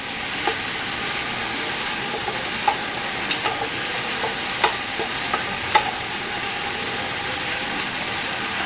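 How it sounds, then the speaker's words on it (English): Sausage and okra fry in a pan with a steady broadband sizzle, while a utensil scrapes and stirs through them, making scattered soft clicks and taps at a moderate, even level. "So as the sausage cooks, the okra will cook. You just mix that around."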